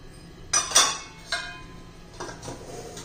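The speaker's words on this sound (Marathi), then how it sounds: "हे सर्व चांगलं व्यवस्थित मिक्स करून घेऊया आपण" Spices for methi balls being stirred together in a bowl: a few close metallic clinks and scrapes of a spoon against the dish, sharpest near the start, then softer taps trailing off.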